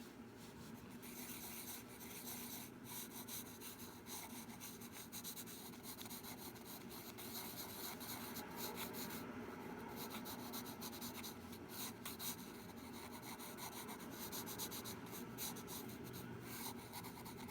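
A pencil scratches and rubs across paper in quick, continuous strokes while sketching hands, a close, fine, papery rasp with a brisk irregular rhythm and no voices.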